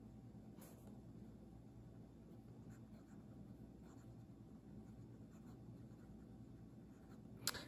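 A fountain pen scratches softly across thin Tomoe River paper, a faint, steady dry rasp with no talking.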